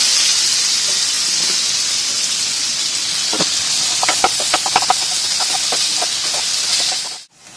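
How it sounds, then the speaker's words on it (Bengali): Chopped onion hits hot oil already seasoned with cumin seeds in a kadai, giving a steady loud hiss with a burst of sharp crackles and pops midway before the sound cuts off abruptly. "এবার এর মধ্যে দেব পেঁয়াজ কুচি"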